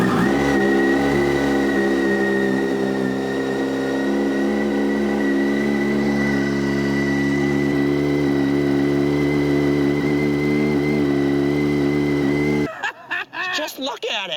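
A turbocharged Yamaha FZ1 motorcycle engine runs in a first start, holding a steady buzzing drone for about twelve seconds before cutting out abruptly, with a voice talking over it.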